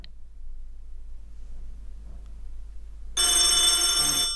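A landline telephone rings from a call placed on a PinePhone, a loud electronic ring starting abruptly after a quiet hum-filled stretch and continuing to the end.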